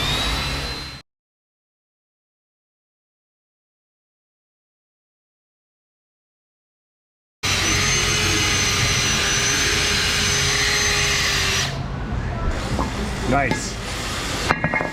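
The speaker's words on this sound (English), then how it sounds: "I'm gonna go ahead and take a wire wheel, clean that off." A wire wheel scrubs surface rust off a Ford Expedition brake rotor, a loud, steady grinding whir that starts suddenly after a stretch of silence and runs for several seconds, then changes pitch and roughens near the end.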